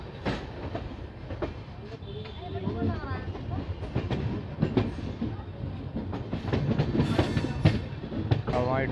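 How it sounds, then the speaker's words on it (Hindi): A Bandra superfast express train arrives on the Bareilly–Moradabad main line near Rampur Junction. Its rumble and clattering wheels build steadily under shifting tonal squeals or horn-like sweeps, growing louder toward the end. "हवाई ट्रेन जो है बरेली मुरादाबाद मेन लाइन पर जो है वो आ गई है।"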